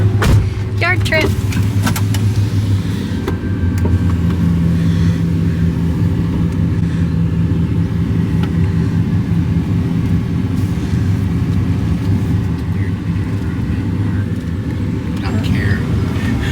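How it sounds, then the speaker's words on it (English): A car rolls slowly through a sandy yard, its engine a steady, fairly loud hum with some brief clatter near the start and no other sounds over it. "It's weird to be driving around through my own yard and not care."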